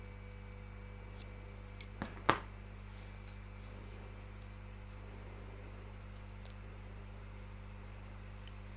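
A few quick scissor snips cutting crochet yarn after a chain stitch, crisp and close, clustered near the start against a quiet background with a steady low hum.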